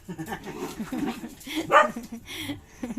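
A puppy outside a home lets out a few short barks and yips, moderately close, with people talking nearby.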